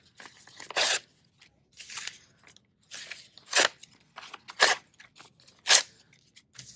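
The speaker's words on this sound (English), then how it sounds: "I'm just gonna rip out a couple pages and rip them into small strips." Old paper pages being ripped by hand into small strips for papier-mâché, with a series of short, crisp tearing bursts separated by brief pauses, close and fairly loud, with no talking.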